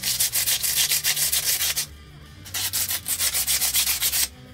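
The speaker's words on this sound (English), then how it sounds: "That doesn't mean I enjoy the hand sanding." Rhythmic, scratchy strokes of hand sanding on a 1095 steel knife blade, a steady run of back-and-forth passes, a short pause, then more strokes.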